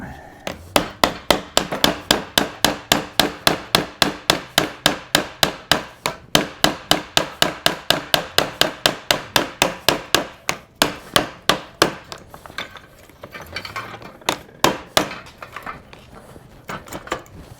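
A hammer taps at a stuck axle boxing on a wagon hub in a coach shop, striking metal in a steady, rapid run of dozens of close, ringing blows that turn more irregular and softer toward the end.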